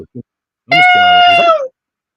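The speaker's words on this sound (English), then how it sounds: "Is that a cat?" A single loud, drawn-out meow rings out close by, preceded by two brief faint sounds and ending in a slight downward slide.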